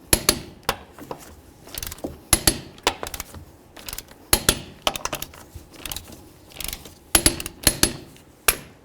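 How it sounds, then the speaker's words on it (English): Sharp metallic clicks from a torque wrench tightening lug nuts on a 1994-2004 Chevy S-10 wheel, in irregular bursts of ratcheting and click-over snaps up close, with no talking. "let's torque these to 100"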